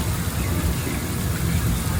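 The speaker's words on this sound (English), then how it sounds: "Alright guys, you can go ahead and cut the rain down." Artificial rain pours on the Universal Studios Hollywood backlot tour, a dense, steady hiss of falling water splashing on surfaces, loud and continuous throughout with no pauses.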